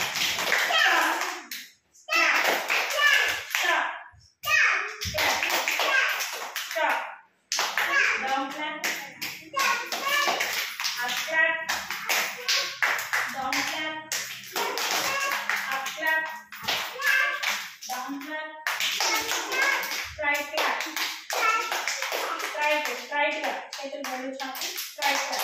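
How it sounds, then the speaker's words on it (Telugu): Children clap their hands in repeated bursts of sharp, bright claps separated by brief pauses, with a child's and an adult's voices talking between and over the clapping. "క్లాప్స్ కొట్టండి."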